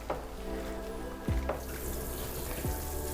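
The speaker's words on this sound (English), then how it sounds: "just gently rinsing the water over her little face with the washcloth" Water running from a tap while a puppy gets its first bath, a steady faucet stream rinsing over her face with a washcloth, with a few soft sloshing splashes over continuous flow.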